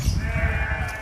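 Sheep bleating on a farm, a close, wavering bleat held for about a second, loud and alone.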